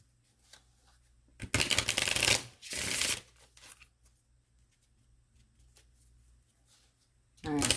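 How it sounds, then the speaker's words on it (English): Cards are shuffled in two quick riffling bursts close by, with a short pause between, followed by quiet room sound and a brief rustle. "let me shuffle these a couple times"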